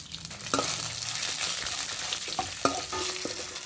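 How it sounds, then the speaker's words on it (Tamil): Red chillies, green chillies, garlic and tamarind sautéing in a pan, a steady close sizzle with repeated spatula scrapes and taps against the metal. "இதெல்லாமே வந்து நம்ம நல்லா வதக்கிக்கலாம்."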